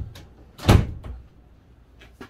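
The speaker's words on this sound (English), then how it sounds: "Shut them doors." Van doors on a VW Crafter self-build campervan being shut in a windy garage: one loud, close thud of a door closing, with a fainter knock before it and another near the end.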